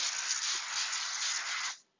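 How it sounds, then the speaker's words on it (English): A steady, close hiss of olive oil cooking spray onto potato skins lasting under two seconds, then cutting off abruptly into near silence. "Nice generous spray with olive oil"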